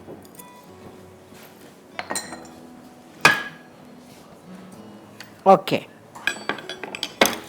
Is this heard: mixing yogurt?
yes